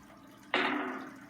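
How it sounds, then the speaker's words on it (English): Fuel is poured onto a home, caught on surveillance video: a sudden splashing gush of liquid starts after a quiet moment and continues steadily, slowly fading, heard faintly at a distance. "this is the sound of him pouring fuel"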